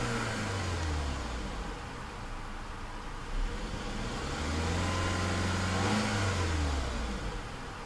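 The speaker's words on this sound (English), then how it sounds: "Doesn't take too much to introduce a little bit of petrol into the engine." A 2015 Audi A3 2.0T Premium Quattro engine revs up and settles repeatedly, a mid-pitched turbo four rising and falling in clear sweeps with a faint background hiss, no talk.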